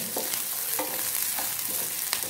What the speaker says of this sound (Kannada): ಕೆಂಪು ಮೆಣಸು ಹಾಕಿ ಇದನ್ನು ಫ್ರೈ ಮಾಡ್ಕೊಳ್ಬೇಕು.